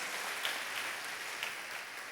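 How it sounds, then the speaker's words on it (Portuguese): Quiet, distant clapping from a church congregation during a sermon, a soft, even wash of applause throughout. "Agora eu quero uma salva de palmas."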